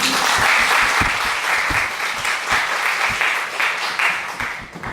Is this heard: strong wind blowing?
no